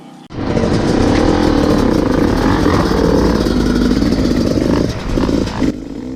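A Beta motorcycle engine roars steadily and close at a public demo day held at an enduro race, holding a loud, sustained drone with slight dips and revs near the end.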